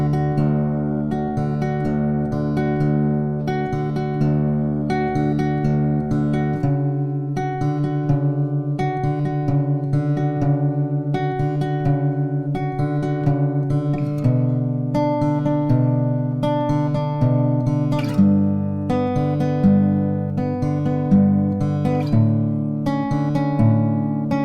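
Acoustic guitar fingerpicks the chorus of a song, steady arpeggiated chord patterns moving through a few changes, played close and clear with no voice over it.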